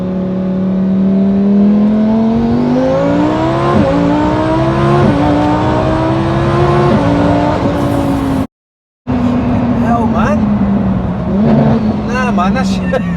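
An 1100hp JM-Imports twin-turbo Lamborghini Huracan roars loudly up through the gears, its pitch climbing in repeated pulls with brief shift dips, then a momentary dropout before the engine resumes, with excited voices talking over it.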